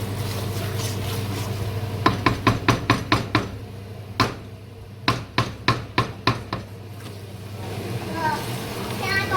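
A spatula scrapes the bottom of a pot of curry chicken in quick bursts of sharp scraping strokes, close and distinct over a low steady hum, with a quieter stretch at either end.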